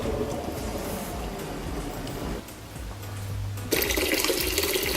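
Boiling water pours into a bucket for a foot soak, a steady splashing gush that shifts in pitch as the level rises, then a louder rush near the end.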